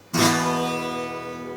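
A single acoustic guitar strum rings out with bright, slightly rattling sustain from string buzz caused by an upbowed neck, slowly decaying, no voices present.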